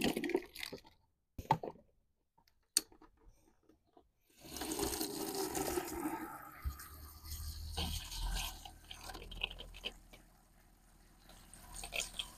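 Water rushes through the outdoor shower of a Scamp trailer during dewinterizing, a steady hissing spray that starts abruptly partway through after a few scattered knocks and clicks, then runs loud and continuous to the end.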